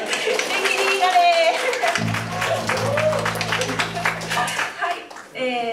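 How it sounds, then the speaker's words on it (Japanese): Audience clapping at a cover band concert, quick rhythmic claps mixed with voices and cheers, a sustained keyboard tone humming underneath partway through. "拍手いっぱいあげてください"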